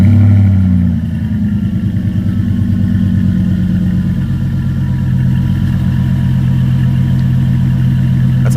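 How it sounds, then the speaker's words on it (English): A 2004 Chevrolet Suburban with a new exhaust idles on its first cold start of the day after a remote start, a loud, steady, close low rumble with an even pulsing beat and no talk. "I'm gonna give you an exhaust clip on how it sounds now"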